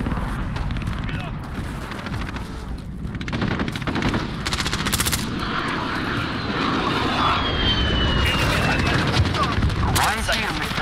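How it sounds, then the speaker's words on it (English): A UAV drone passing overhead during a Call of Duty Modern Warfare match, heard as a steady aircraft engine drone beneath bursts of nearby automatic gunfire, with voices calling out over the combat. "Allied UAV overhead"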